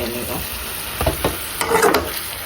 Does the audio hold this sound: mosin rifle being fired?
no